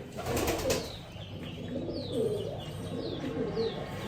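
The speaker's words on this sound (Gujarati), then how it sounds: "આવડું આ કબૂતર છે" A pigeon with paralysis coos in a soft, repeated series of low, throaty calls. The bird is close but faint, with a few light chirps in the background and no speech.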